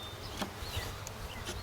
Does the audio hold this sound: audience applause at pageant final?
no